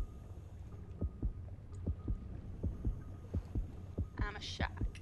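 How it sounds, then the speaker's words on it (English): Heartbeat sound effect in the underwater shark game Depth, a steady rhythm of deep thumping beats over a low hum, close and prominent, with a brief brighter swirl near the end. "How much is your heart beating now"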